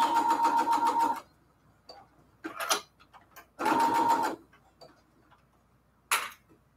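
A sewing machine stitches a quilt pillow case in short rapid bursts, a fast mechanical rattle starting and stopping, with a few brief clicks and rustles between runs.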